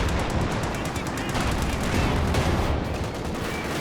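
Machine gun and artillery fire from a Company of Heroes 2 3v3 battle, a dense, continuous clatter of gunfire and blasts that stays loud throughout with no pauses.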